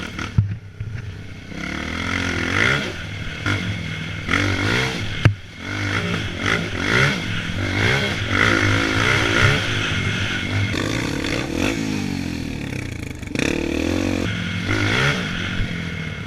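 A dirt bike rides along the Whoop Trail in the Pine Barrens, its engine loud and close, rising and falling in pitch as it revs over bumps, with rattles and clatter from the rough ground.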